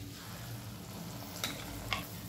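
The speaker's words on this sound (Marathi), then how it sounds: "मंद गॅसवर 2 ते 3 मिनिटं मसाले छान परतून घेऊया" Ground masala paste and spices sautéing in a pan over a low flame for misal, giving a soft, steady sizzle with a couple of light clicks and no talking.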